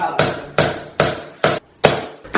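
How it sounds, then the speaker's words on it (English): Hammer blows while flooring is laid in a room being turned into a music room, six loud sharp strikes in a steady, slightly uneven rhythm, close by with no talking. "Okay, hammer this."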